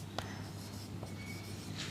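Chalk or marker is scratched across a classroom board in a few short, faint strokes, with small taps and squeaks between them against a low room hum.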